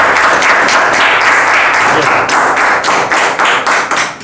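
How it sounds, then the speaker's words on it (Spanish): Guests at a civil wedding ceremony in Santa Rosa applaud the newlyweds, loud close clapping that starts as a dense wash and breaks into separate sharp claps before fading. "les vamos a brindar un gran aplauso"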